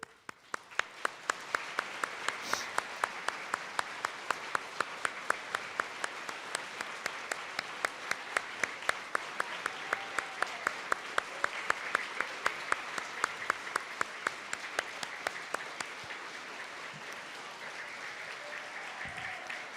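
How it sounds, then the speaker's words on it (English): Steady applause from a sizeable elementary school assembly audience, many hands clapping continuously at an even level, fairly distant and without voices over it. "we can give you a round of applause"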